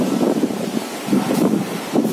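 Strong gusts of wind on an apartment balcony buffet the microphone in heavy, roaring surges that rise and fall over a couple of seconds, loud and close with no voices.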